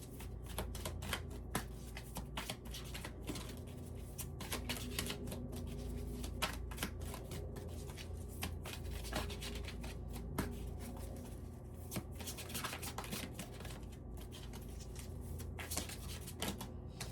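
A deck of tarot advice cards being shuffled by hand, with steady riffling and flicking texture that runs close and continuous throughout, with no talk.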